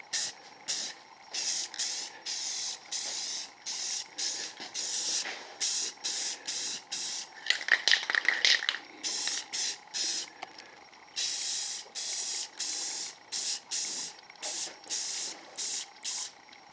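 Tint spray paint is applied to Mercedes-Benz W140 S-Class taillamp lenses in a run of short, close, hissing bursts separated by brief pauses, repeated many times without a break in rhythm.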